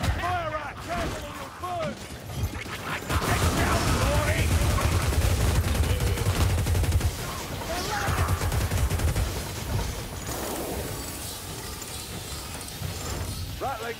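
Rapid, sustained ratling gun fire in Warhammer Vermintide rattles up close amid dense combat clatter, loudest in a long burst midway, with game voices shouting over it.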